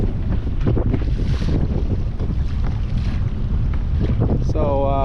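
Ocean waves and strong wind around a kayak near Huntington Beach harbor, a loud continuous rush of wind buffeting the microphone over the surf, with a brief tonal squeal at the end.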